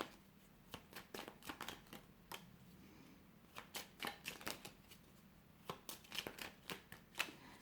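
Tarot cards shuffled close and quietly, soft riffling flicks and taps in irregular bursts with no talking.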